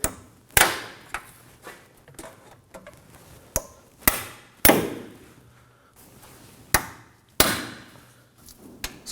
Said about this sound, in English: so we have to break it.